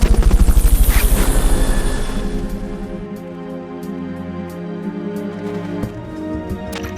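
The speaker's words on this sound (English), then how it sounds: "Fulton recovery helicopter is complete." Fulton recovery helicopter in the video game Metal Gear Solid: Peace Walker, heard as loud rhythmic rotor thumping that fades into a steadier engine whine with faint clicks.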